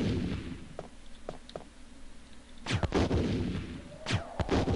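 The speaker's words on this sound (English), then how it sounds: "Seems like more of a grenade launcher than a bazooka" Grenade launcher in Resident Evil firing several times, a few sharp thumps followed by heavier booming blasts with ringing decay, loud and close amid low game ambience.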